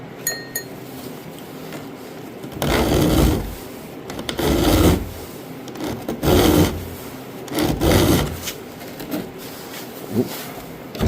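A hand file rasps across the teeth of a chainsaw chain on a 28-inch bar held in a saw vise, with five or six rhythmic gritty strokes close up and short pauses between them.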